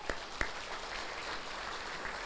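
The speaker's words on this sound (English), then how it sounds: "Let's give them a round of applause." Applause from an audience at an electric cooperative's annual meeting, a steady wash of fairly faint clapping with a couple of sharper claps standing out near the start.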